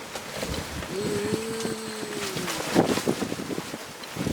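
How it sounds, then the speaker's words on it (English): Steady outdoor wind rumbling and buffeting the microphone throughout, loud and continuous, with a faint tonal whine passing through the middle. "Oh, look at this wind."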